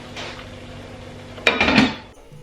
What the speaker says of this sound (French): je viendrai casser les œufs directement au-dessus de mon faitout